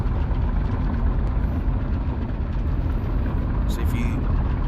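Airplane engine held at a low throttle while taxiing in the World Flight VR game, a steady low droning hum that stays constant throughout.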